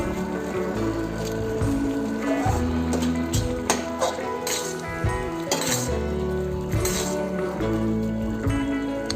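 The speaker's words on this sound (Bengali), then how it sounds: "দিয়ে খুব ভালো করে নেড়ে নেব" Maggi noodles with Maggi masala are stirred in a pan, a steady run of metallic clinks and scrapes from the utensil with a soft, moist squish underneath, close up and without speech.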